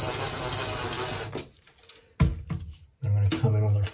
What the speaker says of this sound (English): Screwing this down.